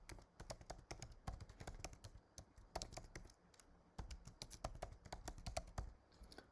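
A web address typed on a computer keyboard, quick uneven bursts of close, crisp key taps with brief pauses between clusters, quiet and free of talk.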